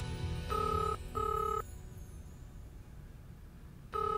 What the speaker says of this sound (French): Mais répondez au téléphone.